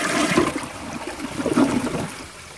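A 100-year-old toilet is flushed, giving a steady rush and gurgle of water that swells and dips over a couple of seconds, heard close and alone with no talking.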